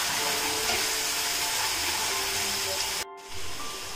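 Masala for aloo soyabean sabji hisses and sizzles steadily in hot oil, a bright continuous frying wash that briefly cuts out near the end before resuming softer.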